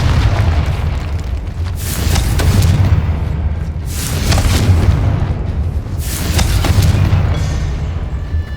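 Confringo spell blasts in Hogwarts Legacy go off as a loud, sustained series of deep booming explosions, three rolling swells over a constant rumbling bed, with no voices.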